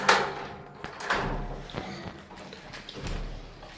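A house door is opened as visitors arrive, with a few soft thumps and knocks over low room noise and no talking.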